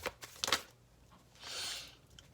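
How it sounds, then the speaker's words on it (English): A short burst of shuffling tarot cards, riffling twice near the start, then a softer sustained riffle a moment later; quiet and close, no voices. "Let me go ahead and get one more shuffle."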